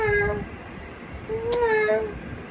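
Pet cat at a vet clinic giving two drawn-out, tonal meows, the second longer with a rising bend, heard close over faint background noise.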